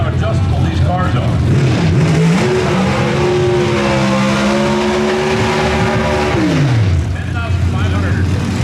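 NHRA Pro Stock drag cars at the 2023 Winternationals scream up to their 10,500 RPM rev limiter, a loud sustained engine wail rising through shifts and then dropping away, with commentary running over it.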